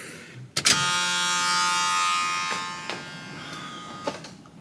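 An aftermarket electric cooling fan in a 1978 Chevy Malibu Classic spins up after a couple of clicks, whirring with a steady buzzing hum for a few seconds and then winding down, with further clicks following.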